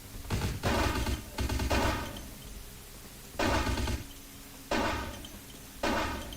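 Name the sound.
submachine gun fire in Vampire: The Masquerade video game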